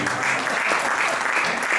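Audience applause at a Hindi kavi sammelan poetry gathering, steady dense clapping throughout with a faint voice beneath it.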